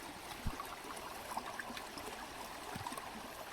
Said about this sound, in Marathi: हे पाणी इकडनं पूर्ण वाहत आहे